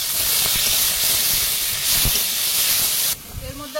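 Onion, ginger, garlic, tomato and green chilli frying in a pan, a loud steady sizzling hiss throughout that drops off sharply near the end.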